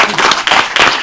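A short burst of applause at a city council meeting, a few seconds of scattered clapping from the chamber, fairly close and uneven.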